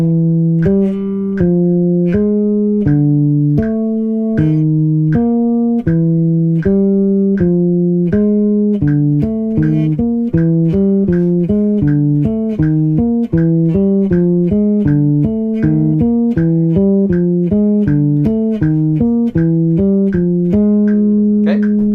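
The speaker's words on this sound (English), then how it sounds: "I'm going to do this now with the metronome, which I've got here" Bass guitar finger exercise played at 80 bpm, steady plucked low notes moving up and down in even rhythm, close and clear, with a soft metronome pulse underneath.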